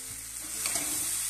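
Cashews frying in a mix of oil and butter in a pan, a steady bright sizzle with faint stirring movement underneath, continuous and close with no talking.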